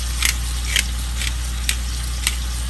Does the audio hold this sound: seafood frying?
yes